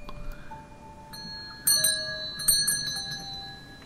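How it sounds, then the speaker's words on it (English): A doorbell chimes in bright ringing tones, two sharp metallic strikes standing out over a quiet, faintly noisy room. "Does that actually work as a doorbell?"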